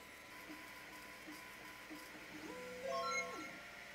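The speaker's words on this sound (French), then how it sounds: "j'ai plus qu'à mettre mes lunettes et à lancer la gravure" A Longer Ray5 10W laser engraver works on stone, its stepper motors giving soft rhythmic whirs and short rising tonal sweeps, quiet and close in a calm room.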